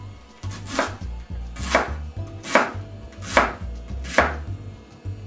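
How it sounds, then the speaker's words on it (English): A knife chops through half a head of red cabbage on a cutting board, five crisp, evenly spaced strokes, each a sharp crunch about a second apart. The sound is close and clear, with no talking. "I'm going to chop about another half of this head of cabbage"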